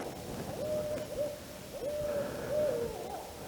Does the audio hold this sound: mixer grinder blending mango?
no